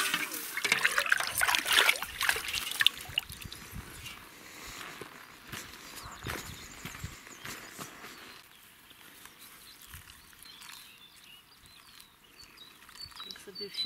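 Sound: water poured to soak soil for planting

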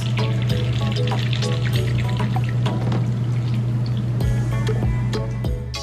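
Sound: pouring Italian margarita over ice

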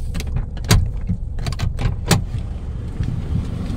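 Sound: car door as someone gets out of a car

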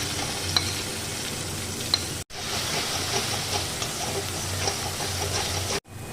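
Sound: chicken frying in mustard oil with onion

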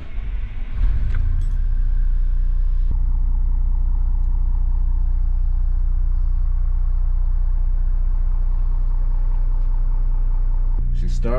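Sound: Class A diesel RV engine running after starting

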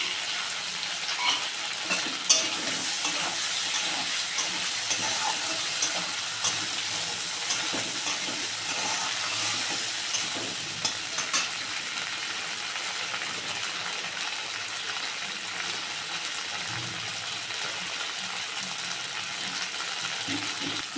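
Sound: tomato frying with spices in a pan

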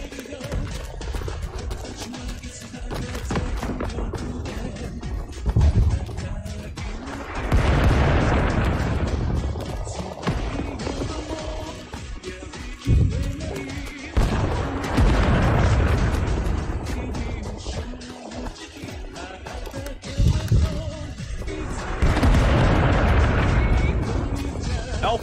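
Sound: artillery fire support explosions in video game Rising Storm 2 Vietnam

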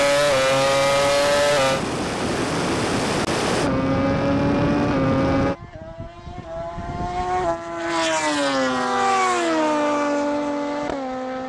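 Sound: MotoGP motorcycle and Rimac Nevera electric car drag racing

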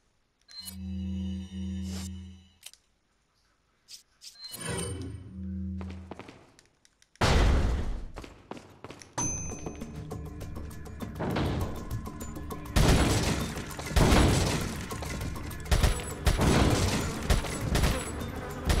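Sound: gunshots at the shooting range in video game Resident Evil 4

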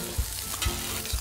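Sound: pork belly and chestnut pancakes sizzling in a pan

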